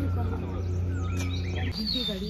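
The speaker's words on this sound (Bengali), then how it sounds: "এটা কি পাখি ডাকছে?" A bird calls in hilly North Bengal forest, a few short rising and falling whistled notes over a low steady hum, close and clear.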